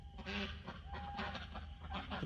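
Farm ducks quack and call in short bursts during a solar eclipse, a fairly faint cluster of honking, clucking calls repeating close together over quiet background noise.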